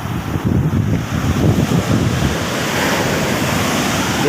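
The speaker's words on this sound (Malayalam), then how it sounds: "കയറി വരുന്ന പത, തിരമാലപ്പതകൾ പതഞ്ഞ്" Sea waves break and wash continuously onto the shore under a steady roar of surf and wind noise, with no boats or other sounds standing out.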